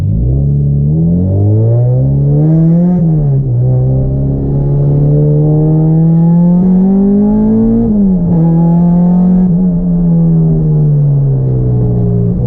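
Engine-swapped Honda Civic on a race track, its engine loud and close, revving up and down through repeated gear changes with brief dips before climbing again, a continuous strained roar with no talk.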